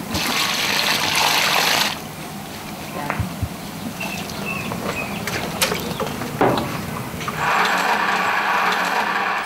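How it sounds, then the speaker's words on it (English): Silkworm cocoons churn in hot water as women process them by hand in China, giving loose sloshing and splashing with scattered clinks and bursts of louder gushing at the start and end. "The cocoons are immersed in hot water to dissolve the glue that binds them"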